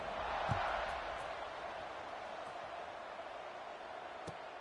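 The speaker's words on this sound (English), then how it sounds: "this crowd is buzzing after that last score" Stadium crowd buzzing in a football video game, a steady broad roar of many voices filling the whole stretch at moderate level, with a couple of brief thuds near the start and end.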